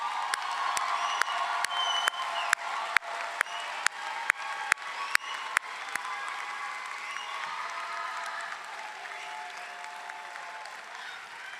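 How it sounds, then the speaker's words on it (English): A commencement audience applauds the graduates in a large hall, a broad crowd of clapping with some cheering, punctuated early on by loud, evenly spaced sharp claps from close by that stop midway while the applause continues. "Let's have another round of applause for our graduates"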